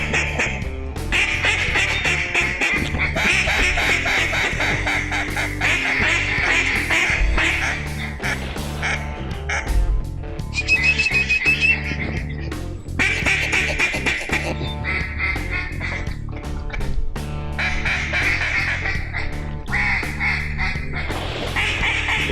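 Ducks quacking in flooded timber during an Arkansas duck hunt: a loud, dense, continuous chorus of many quacks close by, with almost no pause.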